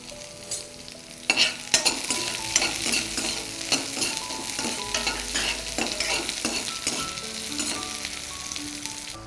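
Mustard seeds, urad dal and onion frying in hot oil, a loud, continuous sizzle with crackling pops and repeated stirring scrapes, no one talking.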